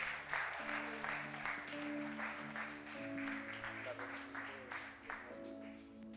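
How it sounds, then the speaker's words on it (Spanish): Church congregation applauding during a Spanish-language worship service, moderate clapping under sustained organ or keyboard chords, fairly distant and steady throughout. "Fuerte el aplauso al Rey de Reyes, Señor de Señores."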